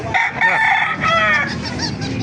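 Roosters crow loudly and close at a poultry market in Baliuag, several overlapping cock-a-doodle-doo calls in quick succession with clucking fowl around.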